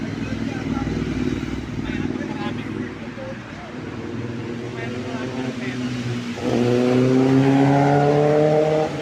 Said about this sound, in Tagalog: maganda rin daloy ng traffic dito